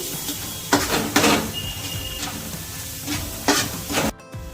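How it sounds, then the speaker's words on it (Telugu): Chili powder and spice masalas frying in oil for a fish curry, a low sizzle broken by several sharp stirring scrapes of a spoon against the pan, close by. "ఈ మసాలాస్ అన్నీ కూడా ఆయిల్లో బాగా ఫ్రై అవ్వాలి"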